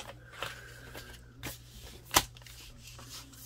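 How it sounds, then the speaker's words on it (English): Scissors cutting through cardstock pieces, giving a few soft crisp snips spread over several seconds, with one sharper, louder cut in the middle, all heard close up in a quiet room. "I'm going to cut these in half."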